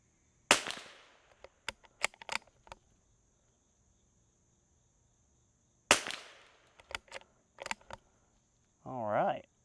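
Two crisp rimfire shots crack from a Sako Quad rifle fired for a group, each followed by a series of metallic bolt clicks, with a brief voice speaking at the end.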